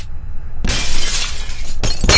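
Glass shatters loudly in the Happy Wheels video game, a sudden bright crash that sustains its crackling spray for over a second before a second smash follows.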